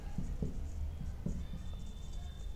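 Handwritten notes during a microbiology lecture, with a few soft pen scratches and taps on paper, faint and close over a low room hum.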